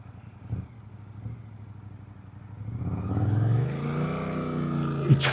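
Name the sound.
Suzuki GSX 8R motorcycle engine with Chinese aftermarket exhaust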